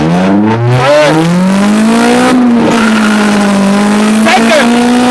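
A manual Honda Civic pulls hard through the gears on a slightly downhill stretch, its engine note rising loud and close with a shift midway, while a driver talks over it.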